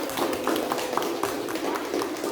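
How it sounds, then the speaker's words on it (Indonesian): Classmates in an Indonesian school lesson give a brief round of scattered hand claps for a student who has just answered, light and uneven at close range. "tepuk tangan buat Sheryl"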